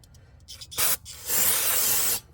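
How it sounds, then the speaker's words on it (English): Brake cleaner sprayed around an Acura TL brake caliper and rotor area to flush out debris, two close hissing bursts, a short one followed by a longer steady blast. "spray out the whole area from debris"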